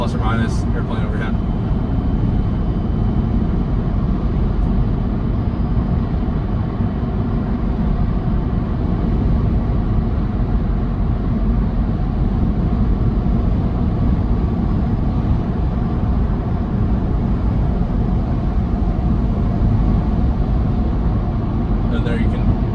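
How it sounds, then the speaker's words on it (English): Steady low road and tire roar inside a Tesla Cybertruck cruising around 70 mph with the climate fan off, a constant broadband rumble filling the cabin at even loudness for the whole stretch. "Let me turn off the climate so you can really hear what is road noise."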